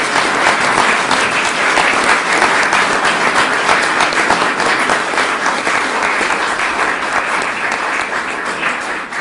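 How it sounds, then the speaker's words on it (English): A round of applause from an audience at a talk on the nuclear tipping point, a sustained dense clapping from many people, loud and even for over nine seconds. "I'd like to give them a round of applause"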